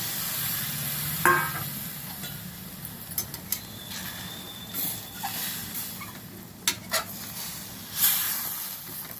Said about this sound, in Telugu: ఇప్పుడు చింతపండు పులుసు వేసేస్తున్నాను.